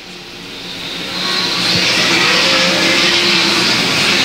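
Outlaw sprint cars roar out of turn 4 at a dirt track showdown, a loud swelling engine drone that builds over the first second and holds at a sustained high whine, with no voices heard.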